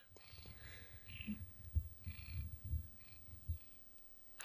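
A house cat purrs softly at close range in a quiet room, a low, rhythmic rumbling with faint breathy pulses and brief murmurs of human voices in the background.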